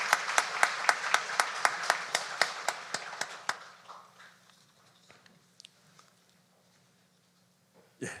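A Sunday worship congregation claps in rhythmic unison to give a blessing, a steady beat of sharp, loud claps for about three and a half seconds that then fades into quiet room noise, with a brief thump near the end.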